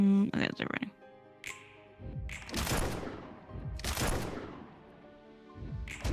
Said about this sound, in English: Some gunshot sound effects.